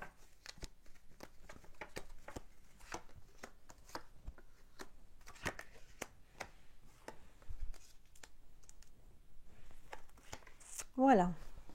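Tarot cards shuffled at close range, a steady stream of soft papery riffles and light taps for several seconds, with a brief voice-like sound near the end.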